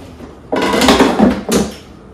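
Seasoned vegetables are tossed and mixed in a bowl, giving loud rustling, scraping shuffles in two bursts close to the mic. No one speaks.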